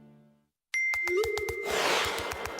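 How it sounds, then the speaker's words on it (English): A phone notification chime sounds once, a clear bright ding standing alone near the start, followed by a dense burst of busy mixed sound. "This is the sound of Dan's phone."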